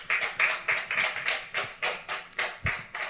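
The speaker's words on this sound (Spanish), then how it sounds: "Bríndele fuertes palmas al Señor." A church congregation claps strongly in unison, a loud, steady rhythm of repeated sharp claps close by, with no one speaking over it.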